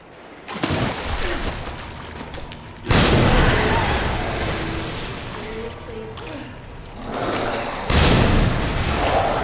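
Repeated grenade blasts in Resident Evil 2 Remake land in a sewer, several loud booming bursts with rumbling tails, the heaviest hits near the start, middle and end.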